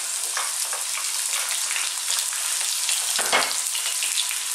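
Cumin seeds fry in hot oil for an aloo gobi, giving a close, steady crackling sizzle with a brief stir partway through.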